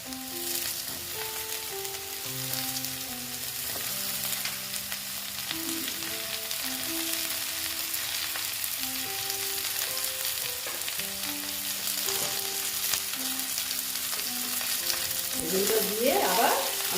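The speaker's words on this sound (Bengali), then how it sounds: "এখন আমি এখানে দিয়ে দিচ্ছি বেগুনগুলো আমি একসঙ্গে দিয়ে দিলাম" Eggplant pieces hit hot oil already holding frying potatoes and onions for a fish curry, giving a steady, close sizzle with occasional stirring over soft background music and no talk.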